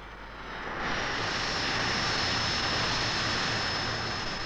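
Engine of an electronic warfare military aircraft fitted with a jamming pod, anti-radiation missile, chaff and flares, a loud steady broadband roar that swells in over the first second and holds constant, with no voices.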